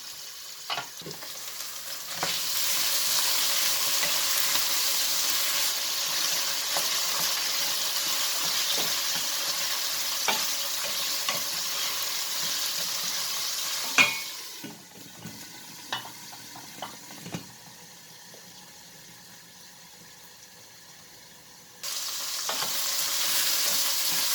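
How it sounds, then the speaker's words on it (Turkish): Chickpeas sautéing in olive oil in a pan alongside zucchini give a strong, steady hissing sizzle close by, broken by a few clatters of stirring, then a quieter lull before the loud sizzle returns. "Nohutla da beraber kavuracağız."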